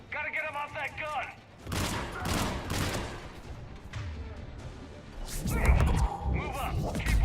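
Bursts of rapid fire from a mounted gun in a Mass Effect 3 firefight, harsh and loud, rising in heavy volleys near the start and again toward the end, with voices talking between shots.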